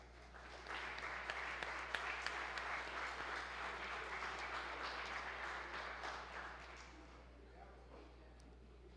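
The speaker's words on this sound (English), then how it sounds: "So another round of applause for Trent Wolf, please." Steady applause from a crowd fills the whole stretch, sustained and even before tapering slightly near the end, over a low constant hum.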